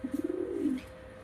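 A single nearby racing pigeon coos in a quick, pulsing series of notes that ends in a longer drawn-out note, with no talk and only faint background hum.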